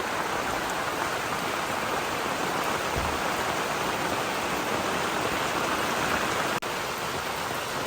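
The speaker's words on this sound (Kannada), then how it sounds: "ಈಗ ಸ್ವಲ್ಪ ಮಳೆ ಬಂದು ತಂಪಾಯಿತು ಸ್ವಲ್ಪ ಆಗ್ಲೇ ಸ್ಟಾರ್ಟ್ ಆಗಿದೆ ಮಳೆ" Steady rain falls outdoors in the hills, a dense even wash of drops, loud and continuous without talk, broken only by a brief dip near the end.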